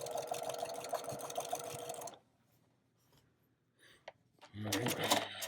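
A sewing machine runs a quarter-inch seam on a quilt in a loud, even whir for about two seconds, then stops. Near-silence follows, with a couple of faint clicks before a voice speaks.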